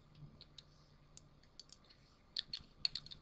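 Light typing on a computer keyboard, faint close clicks in uneven short runs that get a little busier near the end, with no voices.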